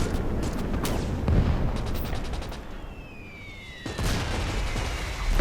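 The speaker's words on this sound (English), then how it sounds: "that mortar is picking them off in the riverbed" Mortar and battlefield fire from the WWII strategy game Gates of Hell, with dull booms and rumbling blasts over a constant wash of combat noise, a whistling shell trailing across the middle and another heavy burst near the end.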